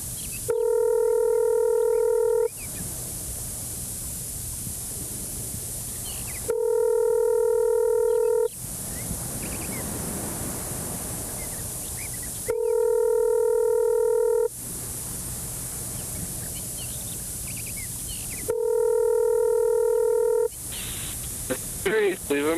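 A telephone rings repeatedly without being answered, each burst of the electronic tone lasting about two seconds and separated by hissing static gaps, four rings in a steady cycle.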